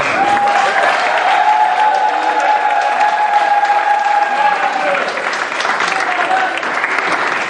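A church congregation applauds and cheers steadily and loudly, a dense wash of clapping with crowd voices that holds throughout, easing slightly near the end.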